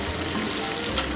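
Large prawns left untouched in a very hot cast-iron wok give off a loud, continuous sizzle with fine spattering crackle, close up and free of voices.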